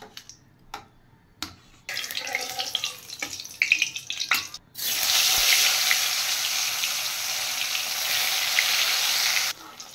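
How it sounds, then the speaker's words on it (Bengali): Paneer frying in ghee in a pan gives a loud, steady, bright hiss and sizzle that runs for about five seconds, after quieter clatter and handling noises. "পনিরগুলো ভাজা করার জন্য একটু ঘি দিলাম"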